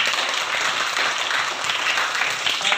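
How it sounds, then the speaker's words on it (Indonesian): A junior high school class claps for a student group after a presentation, a steady wash of applause from many hands throughout, moderately loud and without talk. "Coba dulu tepuk tangan buat kelompok 1."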